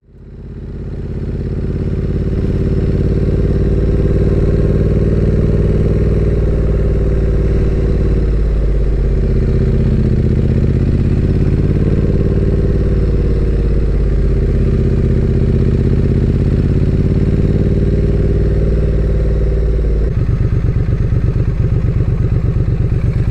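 A Triumph Street Twin motorcycle being ridden on Lemon Hill, its engine a loud, steady throbbing drone that rises and falls gently through gear changes, shifting to a rougher pulsing tone near the end, with no talking.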